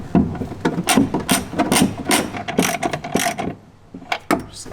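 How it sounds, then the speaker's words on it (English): Ratchet with a long extension tightening a bolt into a U-nut while installing a DECKED truck bed drawer system on a Jeep Gladiator, loud close clicking strokes in quick repeated bursts with brief pauses. "we're going to take our ratchet with a really long extension, go ahead and secure it to the U-nut"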